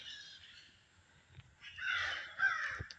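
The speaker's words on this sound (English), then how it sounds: "You hear the crows?" Several crows caw at a distance in an outdoor area of structures, harsh calls arriving in a couple of loose bursts over faint background noise.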